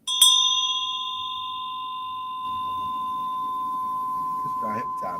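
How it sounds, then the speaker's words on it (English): A bell is struck once with a sharp attack and rings on as a long, steady pure tone that slowly decays, while soft murmuring voices come in beneath it toward the end. "It's a bell."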